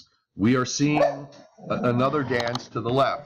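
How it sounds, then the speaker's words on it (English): A dog barks a few times indoors on a snowy day, partly masked by someone talking steadily over it. "That is my dog, who wants to go out and play in the snow."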